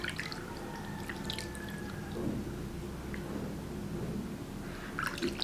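Water splashing and dripping as a homemade tomato facial mask is rinsed off the face, a steady close wet trickle with soft drips throughout.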